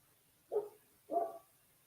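A dog barks twice at moderate distance, two short separate woofs about half a second apart, against a quiet background.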